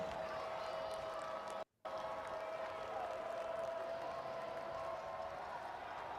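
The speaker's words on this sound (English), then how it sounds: "This homecoming crowd trying to get into it." A homecoming crowd in a college football stadium keeps up a distant, steady roar of cheering and clapping, briefly cut by a moment of silence, with a faint hum beneath.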